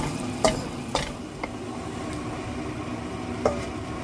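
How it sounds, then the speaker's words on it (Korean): Bean sprouts stir-fried in a pan for a tomato stew, a soft continuous sizzle broken by a few sharp scraping clacks of the spatula, close up with no talking. "콩나물 좀 볶아서 넣습니다."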